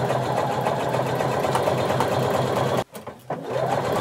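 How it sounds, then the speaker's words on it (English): A sewing machine runs a very narrow zigzag stitch on swimsuit fabric, a steady close mechanical whir that cuts out briefly for a short pause near the end before resuming. "using a very narrow zigzag stitch, we're going to sew until we get to our dot."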